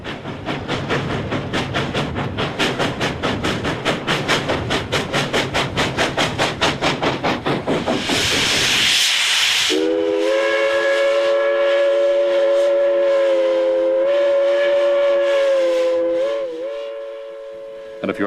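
An excursion train on a scenic line along the Georgia and Tennessee state line: a rhythmic steam-style chuffing beat for several seconds, a burst of hissing steam, then a long sustained whistle blast that holds steady before fading.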